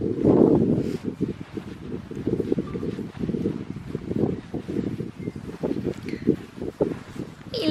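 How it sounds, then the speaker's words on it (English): Wind gusts blowing across an outdoor microphone, a steady low roar with buffeting swells throughout, loud and close with no clear talk. "Hopefully you can hear me over the wind"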